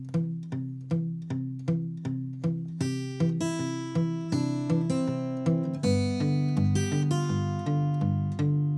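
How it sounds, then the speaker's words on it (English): Fingerstyle acoustic guitar plays the folk tune Freight Train, with the bass notes palm-damped at the bridge so they thump short and muted beneath ringing treble melody notes, steady and close with no talking. "One last suggestion is to play this with the bass part damped"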